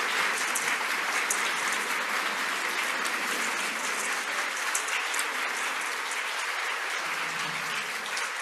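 Audience applauding after a talk on First Lady Edith Wilson, a steady, dense wash of many hands clapping throughout, fairly distant and even, with no voices over it.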